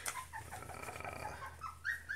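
A three-week-old Airedale Terrier puppy whimpers faintly in a series of short, high, rising whines, quiet and close with no talking.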